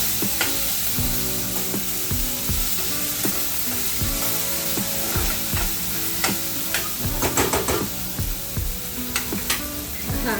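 Onion and tomato cooking in a pan on a village-style kitchen stove, a steady close sizzle with repeated sharp scrapes and taps of a stirring spoon against the pan throughout.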